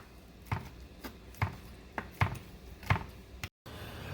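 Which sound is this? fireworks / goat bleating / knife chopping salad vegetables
knife chopping salad vegetables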